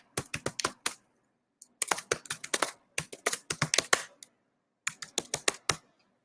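Keys clatter on a computer keyboard in quick close bursts of typing separated by short pauses, crisp and isolated with no voices.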